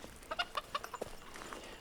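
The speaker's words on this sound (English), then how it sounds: "the ducks and the chickens, as the chickens are coming through here and turning everything up" Chickens on an off-grid homestead cluck in a quick run of short, fairly close calls, several brief notes in a row, with no talking over them.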